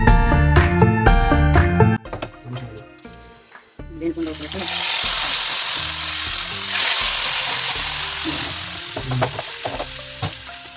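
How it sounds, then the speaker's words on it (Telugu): Spice tempering for millet bisibelebath, including asafoetida, crackles and sizzles loudly in hot oil, a dense steady fry after a few seconds of stirring and clatter, continuing to the end. "ఇలా పోపు బాగా వేగిన తర్వాత బిసిబెళ్ళబాతులోకి వేసేసుకొని"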